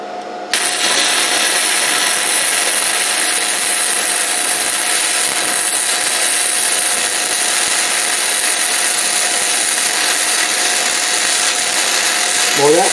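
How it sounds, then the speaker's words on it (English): A Vevor 130 amp MIG/TIG/MMA inverter welder runs a bead on tacked steel, giving a steady, close, crackling hiss that starts after a brief pause and holds evenly to the end. "Let's weld this."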